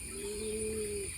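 Soft, low bird cooing, a steady droning call close by, with faint higher chirps above it.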